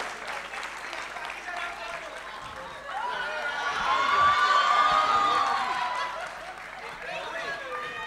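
Audience at a Gujarati film-industry event applauding, a dense wash of clapping that swells from about the three-second mark to a peak and then eases off, with scattered voices under it.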